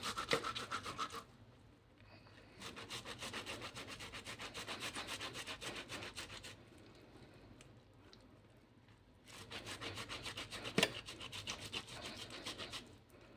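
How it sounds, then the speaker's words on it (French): Fresh tomatoes rubbed against a kitchen grater, a steady rasping scrape in long bursts separated by brief quieter pauses, close and clear with no voices. "Donc, vous râpez vos tomates."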